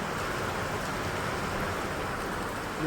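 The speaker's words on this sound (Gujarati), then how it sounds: "એટલો પવનની સાથે વરસાદ ચાલુ છે" Steady, dense hiss of heavy wind-driven rain pouring down without pause, a continuous wash of noise close by.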